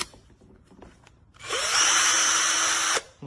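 A VIWKO 20V cordless combi drill on speed setting 2 whirs up to speed and runs steadily for about a second and a half before stopping, preceded by faint clicks and handling.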